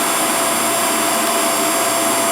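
A vacuum cleaner, either a Hoover Air Steerable or a Riccar Vibrance R20E, runs steadily and loudly during an airflow test with a gauge plugged onto the hose, giving a dense, unbroken whooshing roar with no talking.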